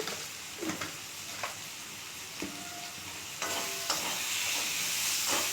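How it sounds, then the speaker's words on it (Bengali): Chicken do pyaza sautéing in a pan, with a steady close sizzle and fry hiss broken by several stirring scrapes and clinks; the frying swells louder near the end. "এটা দু তিন মিনিট কষব"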